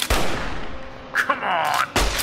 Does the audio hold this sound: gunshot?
yes